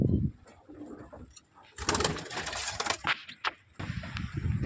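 Newly bought pet pigeons coo while they eat, soft low murmuring calls close by, mixed with a rustling burst of wind and rain noise and a few clicks, with no speech.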